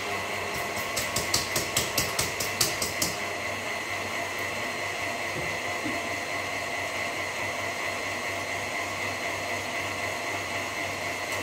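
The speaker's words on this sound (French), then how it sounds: "C'est pratique les robots parce que ça permet de mélanger" A kitchen robot churns muffin batter with a steady motor whir, and a quick series of rhythmic clicks sounds over it at first before the hum carries on alone.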